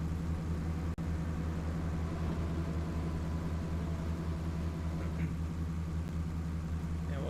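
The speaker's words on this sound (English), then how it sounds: "Hopefully the bulldozer's not too loud for you guys." A bulldozer engine in the Farming Simulator 25 game runs as a steady low droning rumble, continuous and fairly quiet, with a single sharp click early on and no talk.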